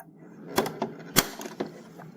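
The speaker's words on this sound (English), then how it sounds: "The moment it clicks, we are sure that the parts were correctly placed on the sewing machine." Several small sharp plastic clicks and taps of a hook and bobbin case snapping into a household sewing machine, close and quiet, irregularly spaced.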